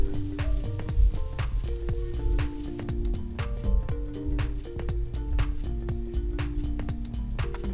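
Drumstick leaves sizzling and frying steadily in hot oil, a dense continuous crackle with small pops and faint stirring throughout.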